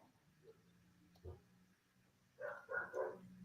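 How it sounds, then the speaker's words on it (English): Several neighborhood dogs bark outdoors in a short burst of loud, overlapping barks near the end, with faint murmuring and low background hum before it. "Y'all get to hear some dogs barking because they have no manners at all."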